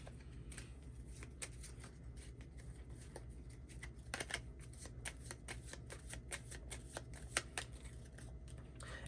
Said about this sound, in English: So I will shuffle these in.